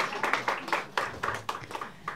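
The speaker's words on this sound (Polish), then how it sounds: "prosimy o gromkie, gromkie brawa" Lively, rhythmic applause from a family audience at a Christmas carol gathering in the Midas cellars, with loud, close claps landing in quick, regular bursts.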